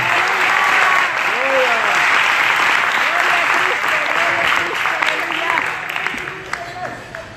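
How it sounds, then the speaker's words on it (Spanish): A church congregation in Dallas, Texas applauds loudly and steadily for several seconds, with voices shouting and cheering inside the clapping before it starts to thin out toward the end. "Fuerte ese aplauso a Cristo, gloria a Dios."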